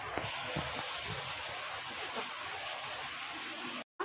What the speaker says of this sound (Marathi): मी 2 ग्लास पाणी टाकलेलं आहे शिजायला